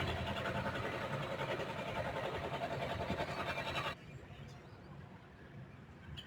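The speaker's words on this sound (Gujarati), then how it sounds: "ફાઇનલી આપણું ટ્રેક્ટર રિવર્સમાં ચાલી ગયું" A mini tractor engine runs steadily and fairly close while reversing, a rough mid-pitched drone that drops to a quieter idle partway through.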